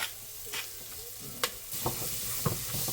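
Garlic, onions and cumin sizzle steadily in a pot on the stove, with a soft frying hiss throughout and a few light clinks from stirring.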